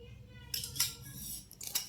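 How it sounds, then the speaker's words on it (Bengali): Dry flour with a little sugar, salt and oil being mixed in a bowl for paratha dough, heard as faint, quiet scraping and clinking of a spoon against the bowl in a few short strokes. "শুকনো উপকরণগুলো ভালো করে মিশিয়ে নেব।"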